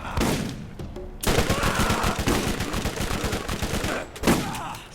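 Rapid video game gunfire from Borderlands, dense overlapping bursts and single shots crackling loudly through the whole stretch, with a brief lull near the start and a sharp blast near the end.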